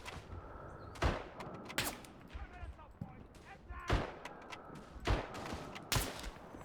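Pump shotgun fire in the trench-warfare video game Verdun, a handful of sharp booming shots spaced about a second apart amid distant battlefield gunfire, with someone talking over it.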